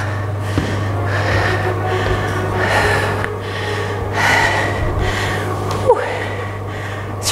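Someone breathes heavily with deep gasping breaths and snorts after a round of a workout class, close and fairly loud over a steady background hum.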